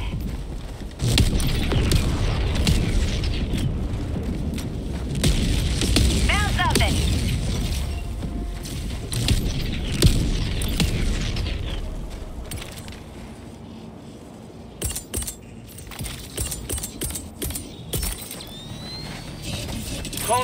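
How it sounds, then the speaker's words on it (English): An orbital barrage in Helldivers pounds the area with heavy rumbling explosions and mechanical clatter, dense for the first twelve seconds, then sparser sharp hits and clanks. Game voices talk over parts of it. "Firing orbital barrage."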